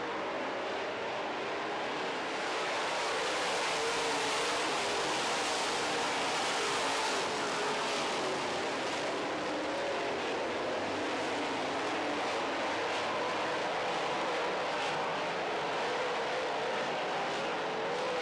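Late model stock cars race around a dirt oval track in a feature event, their engines roaring continuously and loudly as the pack circles, with no talk over the steady din.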